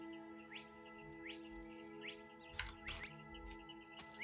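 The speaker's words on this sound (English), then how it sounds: "I hear birds at night." Faint, distant birds chirp at night in the video game Boundless in short rising calls repeated every second or so, over a quiet humming background with a few soft clicks.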